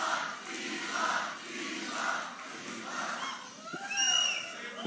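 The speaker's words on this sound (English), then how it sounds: "I'm guessing this is a pro-Elon crowd somehow." A crowd at an Elon Musk event cheers and shouts in waves, a fairly distant roar of many voices with a few whistles near the end, heard on its own without close talk.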